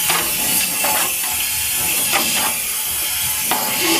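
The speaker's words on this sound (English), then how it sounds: "The probe with the compressed air." A compressed air probe blows inside a rusty motorcycle fuel tank during an FZR restoration, giving a loud, continuous hiss and roar with rattling, scraping bursts as the air stirs up the tank's interior.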